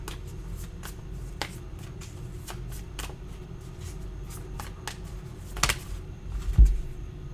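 Tarot cards are shuffled by hand in a quiet room, giving a steady run of soft, close riffling clicks and a few sharper taps near the end, with no talking.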